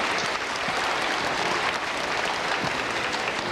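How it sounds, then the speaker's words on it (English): An audience at a 1992 children's pageant in Jensen Beach applauds, a full, even rush of clapping hands that carries on steadily for a few seconds without talk. "Let's give her a round of applause,"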